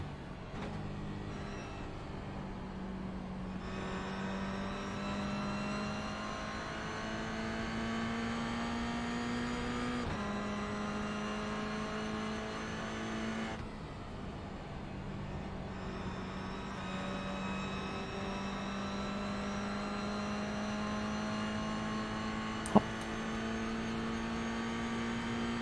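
Mazda MX-5 race cars lapping Zolder circuit during a 23-hour charity endurance race, a continuous distant engine drone with rising and falling pitch as cars pass and shift, steady throughout with one brief sharp click near the end.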